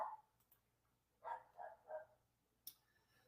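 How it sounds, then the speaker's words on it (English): A dog barks in the background on the street side: one quick bark, then a run of three close barks and a final sharp yelp, all fairly distant and faint. "Hopefully you can't hear my dog barking in the background."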